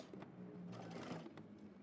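A sewing machine runs steadily, stitching a jacket seam through all layers with a 5/8-inch seam allowance. The whirring hum is close and continuous but quiet, with a few faint clicks.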